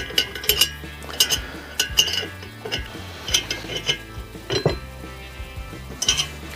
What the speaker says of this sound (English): Now, to get this started, you use a wrench.